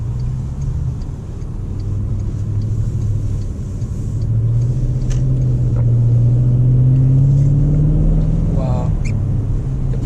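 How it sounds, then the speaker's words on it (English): Steady engine rumble of a Bentley Continental GTC driving on a rough road, with a low drone that rises and swells, and a brief squeak near the end. "let's see how this car goes onto a little bit more rough condition roads"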